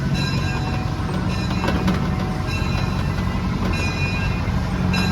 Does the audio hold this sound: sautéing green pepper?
no